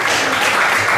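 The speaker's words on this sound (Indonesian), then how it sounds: "Sekali lagi kita berikan aplaus kepada Pak Masinis." Audience applause fills a hall at a Central Papua economic forum, honoring a train driver: a dense, steady burst of clapping, loud and close, lasting about a second with no voices.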